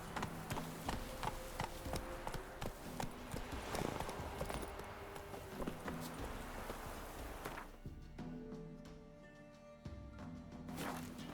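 Geralt's horse Roach trots in The Witcher 3 with steady, rhythmic clip-clop hoofbeats, close and fairly loud, fading toward the end before a final hoof strike.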